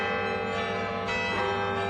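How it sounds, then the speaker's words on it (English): Bells of the Basilica of the Sacred Heart at the University of Notre Dame ring out in celebration of a papal election, a loud, sustained, resonant peal with overlapping tones throughout. "The bells at the University of Notre Dame's Basilica of the Sacred Heart at the news of the election of Pope Leo XIV"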